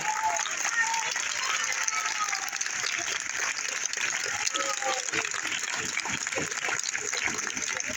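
Applause at a primary school graduation in Vigo, Spain: a dense, continuous crowd of clapping hands that holds steady from start to finish, with scattered voices mixed in.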